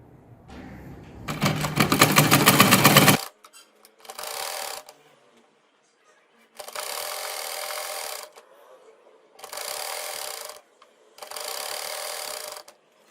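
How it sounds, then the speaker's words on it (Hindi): A sewing machine stitches a salwar poncha with cutwork, running in five separate bursts: a long loud run first, then four shorter runs of similar strength, each separated by quiet pauses. "अब इसी तरह जो है वो मैं दूसरे पोंचे को सिलाई लगाकर कंप्लीट करूंगी।"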